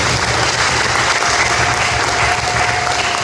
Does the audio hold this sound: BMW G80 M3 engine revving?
no